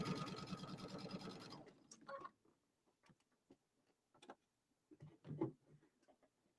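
A home sewing machine stitching in reverse back over a seam, a fast steady mechanical whir for about a second and a half, then stops, followed by faint scattered ticks and clicks of fabric handling.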